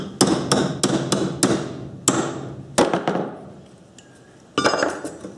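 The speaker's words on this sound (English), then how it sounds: "I'll just open that up a wee bit with a chisel." A chisel is hammered to widen a gap in a fencing wire tool, giving sharp, loud metallic strikes in a rapid series, then a pause and another quick burst of blows.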